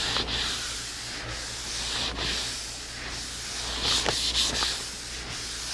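Steady back-and-forth sanding strokes rasp rhythmically on a finish rather than bare wood, soft hissing rubs repeating about once a second, close and alone.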